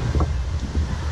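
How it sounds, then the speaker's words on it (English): Strong wind buffets the camera microphone outdoors near a water park under construction, a steady low rumbling roar with gusting swells throughout. "Sorry, this wind is shaking this whole everything here."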